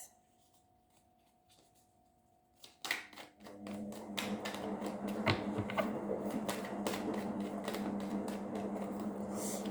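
Tarot cards shuffled by hand after a quiet opening, a rapid flurry of crisp riffling and tapping that continues steadily and close up.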